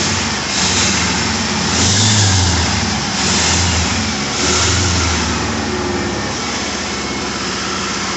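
A 1980 Triumph TR7 engine runs steadily at a low, even hum, with a few gentle swells in pitch, close by and without any voices.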